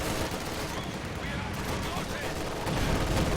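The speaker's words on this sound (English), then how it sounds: "This rifle squad just getting all of those troops suppressed by that MG42" Sustained MG42 machine gun fire in Company of Heroes 2 suppressing troops, a dense continuous rattle of bursts mixed with other battlefield gunfire that stays loud and steady throughout, with speech running over it.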